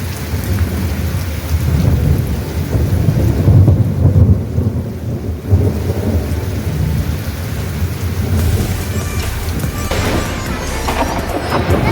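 A heavy thunderstorm with continuous loud rain, broken by deep rolling thunder rumbles that swell and fade across the span, heard close with no talking.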